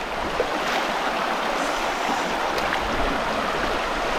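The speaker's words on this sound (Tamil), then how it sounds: "மக்களே இந்த பாருங்க தண்ணி எப்படி ஓடுது பாருங்க பெரிய ஆறுங்க" Rushing river water flows loudly and continuously, a broad steady roar with no voices over it.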